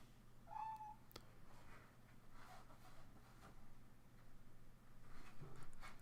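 A cat gives a single brief, faint meow near the start against a quiet room with a low steady hum, followed by soft rustling.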